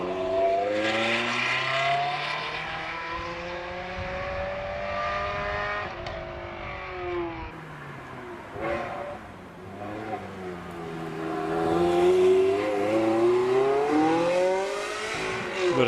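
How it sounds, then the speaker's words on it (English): A 21-year-old Ferrari on the hillclimb at Prescott, its engine revving and climbing through the gears with a strong, sustained note that rises and falls, close and loud, with a commentator's voice faintly underneath. "Take it pretty easy round Orchard. Don't bend your nice Ferrari"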